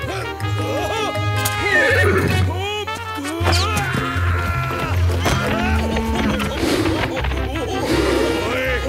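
Horses whinny loudly amid a busy chaotic cartoon scene from a Zorro animated series, with shouting voices, galloping hoofbeats and other commotion layered on top.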